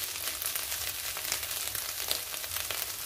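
Soya chunks thoran frying dry in a pan, a steady close crackling sizzle with no talk.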